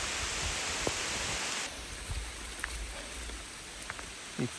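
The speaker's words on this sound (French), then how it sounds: "Il pleut un petit peu." Steady broadband hiss of light rain on a mountain hiking trail, loud at first then thinning out, with a few scattered drips and soft rustles nearby.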